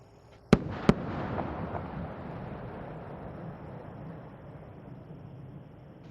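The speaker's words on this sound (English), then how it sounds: "the space shuttle announces its arrival at the launch site with its signature sound of twin sonic booms" Space shuttle Atlantis arriving at Kennedy Space Center with its twin sonic booms: two sharp, loud cracks in quick succession followed by a long rumbling decay that fades slowly.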